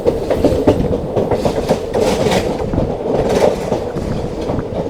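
Vanchinad Express train running into Kayamkulam Junction, with steady loud rumble and rhythmic clickety-clack of wheels over rail joints throughout, close and continuous.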